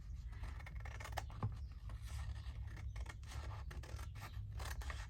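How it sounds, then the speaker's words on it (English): Scissors snipping a paper strip off a handmade journal: close, continuous crisp cutting and scraping of blades through paper, steady throughout with a few sharper snips, no talk over it. "I'm not going to tear it, I'll just cut it."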